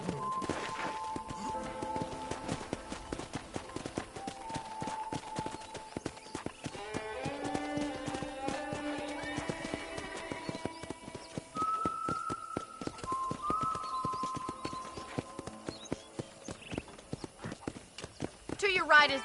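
Horse hooves clip-clop along at a walking pace in the Red Dead Redemption video game, a quick, regular rhythm running throughout, with a brief whinny, background music and spoken dialogue over it.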